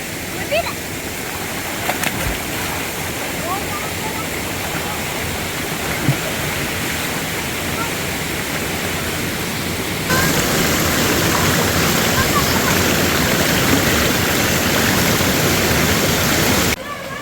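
A rushing waterfall at Rim Moei, a steady, dense roar of falling water close by that grows louder partway through, with faint voices of people nearby.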